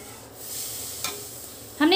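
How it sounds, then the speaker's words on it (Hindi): Milk being stirred in a kadhai for rusk barfi, a soft scraping swish of the spoon with a faint sizzle beneath, ending in a brief louder clink of the utensil against the pan. "दूध को थोड़ा सा गाढ़ा होने तक हम चलाएंगे।"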